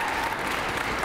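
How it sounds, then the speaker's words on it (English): Steady applause from a crowd at a press conference, dense continuous clapping without a break for about a second. "Give them a round of applause."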